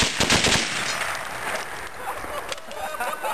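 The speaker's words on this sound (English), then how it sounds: "You're shooting again?" Rapid rifle gunshots fired at a toilet outdoors, loud sharp cracks in quick succession at the start, followed by a fading echo and ambient noise.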